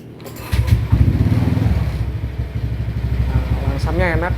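A Honda Vario 150 scooter with a remapped ECU and stock exhaust starts and settles into a steady close idle, its even putter running throughout while someone speaks over it.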